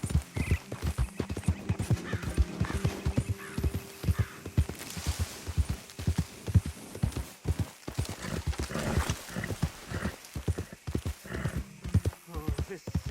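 Horse galloping in Red Dead Redemption 2, rapid rhythmic hoofbeats pounding steadily and close throughout, with a short neigh and a rider's voice urging it on.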